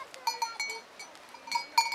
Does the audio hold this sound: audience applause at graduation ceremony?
no